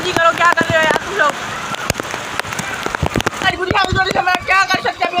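Heavy rain comes down in Karachi, pattering steadily with sharp splashing drops, while people talk over it throughout.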